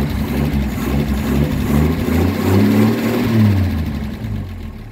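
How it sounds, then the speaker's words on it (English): A 1958 AMC Rambler Super's engine runs close by, rising from a rough idle into a couple of throaty revs and then settling back down, with no talking over it. "I wanted to show off a little bit and rev the engine"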